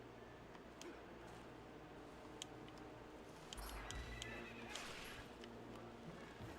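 Horse riding in the video game Twilight Princess, with hoofbeats and a faint neigh over a continuous low rumble, plus scattered sharp ticks and a brief louder burst partway through.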